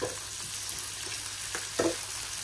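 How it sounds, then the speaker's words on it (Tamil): Onions, cashews and salt frying in a pan, a soft continuous sizzle with a few spoon stirs and scrapes, one louder near the end, heard close without talk. "இந்த வெங்காயம் வந்து நல்லா வதங்கிட்டு பாருங்கள், பொன்னிறமாக வதங்கணும்."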